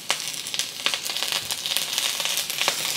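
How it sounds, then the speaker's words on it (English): Ginger and the light green and white parts of green onion sizzle steadily in a hot pan for a tomato and egg stir fry, a close, continuous crackle with sharper pops scattered throughout and no talking. "I'm gonna cook this for about 30 seconds, just until you can start smelling the ginger."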